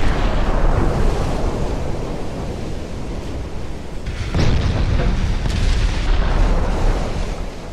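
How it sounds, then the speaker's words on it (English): 8-inch naval guns firing in a 1915-era Ultimate Admiral: Dreadnoughts battle, a loud deep boom midway that rolls out over a constant roar of sea and wind. "My 8-inch guns are doing pretty good"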